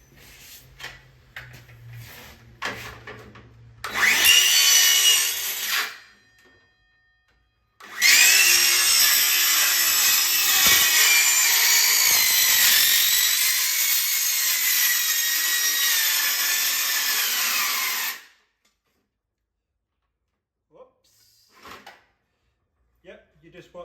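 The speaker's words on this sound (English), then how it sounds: "that's how good the blade is, cuts right through your workbench" Power tool blade cutting through a wooden workbench in a workshop: a short loud whining burst, a pause, then a long sustained cut of about ten seconds ending abruptly into near silence, with some talk.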